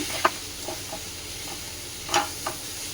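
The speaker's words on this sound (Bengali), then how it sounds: "এটাকে ভালো করে মিশিয়ে এটা একটু নাড়াচাড়া করে নেব আর তেল একদম অল্প দিয়েছি" A spoon stirs and scrapes a dry mixture frying in very little oil with chaat masala, giving a few scattered scrapes and clinks over a low, steady sizzle.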